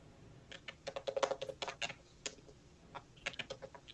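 Quick, faint clicks of typing on a computer keyboard come in irregular bursts of keystrokes against quiet background noise, with no talk.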